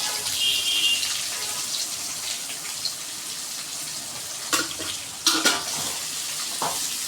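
Onions sauté in a pan for channa masala, a constant close hiss of frying with a few louder scrapes and clatters of a spoon stirring near the end, no voices.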